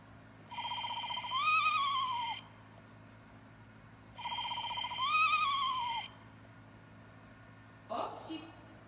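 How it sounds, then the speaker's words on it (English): Recorded Eastern Screech Owl calls played from a handheld device, two long descending whinnying trills about two seconds apart, clear and close, followed by a brief rustling sound. "we're going to play the Eastern Screech Owl call"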